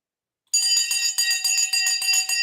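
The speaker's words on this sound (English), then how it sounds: "The bell has gone." A bell rings loud and close in quick repeated bursts of bright metallic clanging, several strikes in a rapid rhythm after a short silence.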